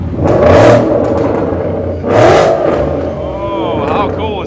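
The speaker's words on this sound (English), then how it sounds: "Another wonderful vintage Mustang bringing up the rear of the Mustang Club" Vintage Ford Mustang in a street parade, engine revving in two loud surges with a steady rumbling idle between them, close by and overlaid with crowd chatter.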